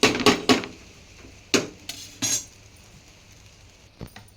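A metal lid set onto a cooking pot, a few sharp clanks and rattling clinks in quick bursts followed by a quiet pause and one last small knock, close by with no talking.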